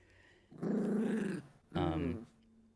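A puppy growls close up in two throaty bursts, the first longer than the second, with a short pause between them and a quiet room around them.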